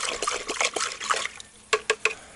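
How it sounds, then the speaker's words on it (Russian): Water splashes and trickles in short bursts, ending with a few distinct splashy plops, close by and moderately quiet. "Вода уже холодная, брызгает по рукам."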